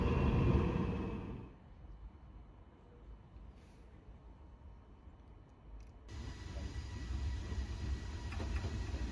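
Electric locomotive 151078 rolling onto track 7 in a rail yard: a loud rumble that fades to a quieter stretch, then steady running noise builds again close by, with no talk.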